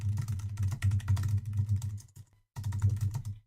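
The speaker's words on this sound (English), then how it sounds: "I hear you typing." Rapid keystrokes on a computer keyboard sound close and crisp, with a brief pause before the typing resumes.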